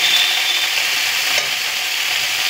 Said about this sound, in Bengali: এবার আমি ভেজে রাখা আলুর মধ্যে তুরুলটা দিয়ে দিয়েছি